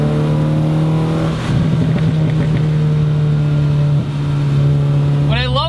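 Modified VW Golf 2.0 race car engine droning loudly from inside the car, holding a steady note with a couple of throttle blips and a sharp rising rev at the end, a voice talking briefly over it.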